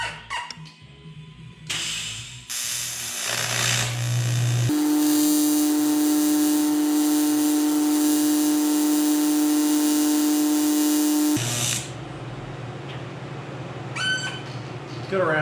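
A TIG welder with a tungsten electrode runs a bead for several seconds, giving a steady, loud buzzing hum that starts and stops abruptly, with brief workshop clatter before and after.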